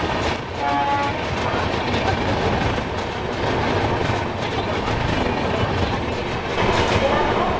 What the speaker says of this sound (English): I've never seen a train that big before. That kept going.